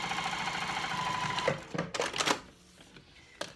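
A sewing machine top stitching a cork clutch wallet runs in a fast steady whirr, then stops, followed by a few short clicks and handling knocks, close and clear with no talking.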